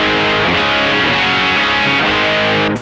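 Thick, saturated electric guitar chords ring out through a gritty Timmy overdrive pedal, sustained and loud, cutting off abruptly near the end.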